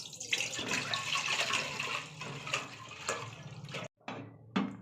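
About 1.5 litres of milk is poured into a cooking pot, making a close, continuous liquid splashing and gurgling for several seconds before a brief pause and a final short pour.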